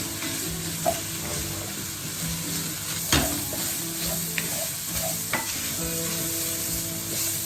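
Bacon browning in a pan with garlic, a steady close sizzle and crackle with occasional sharp pops and light stirring knocks, no voices.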